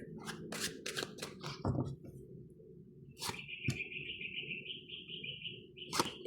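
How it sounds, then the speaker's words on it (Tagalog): Quiet outdoor bird calls: a few short chirps, then a sustained thin whistle-like tone, with some soft rustling in the background. "biglang may ibon"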